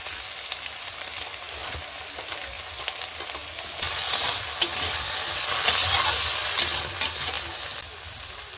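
Potatoes frying with cumin, coriander powder and chaat masala for a Bengali aloo bhaji give a dense, close sizzle with continual stirring scrapes, growing louder and brighter midway as the pan is turned over, no speech.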